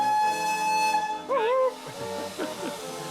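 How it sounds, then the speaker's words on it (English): Steam locomotive whistle on a restored heritage railway, a strong sustained tonal blast that wavers briefly before cutting off, followed by hiss and nearby voices. "Blow the whistle."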